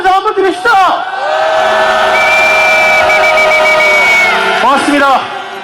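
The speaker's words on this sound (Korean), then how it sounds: "그 김에 우리 반올림 식구들에게도 힘찬 박수 함성 한번 드립시다." Korean street rally crowd at a protest demanding Park Geun-hye's resignation and Lee Jae-yong's arrest, cheering loudly and steadily with shrill whistles and whoops rising above a dense roar, while an amplified voice speaks over it at the start and end.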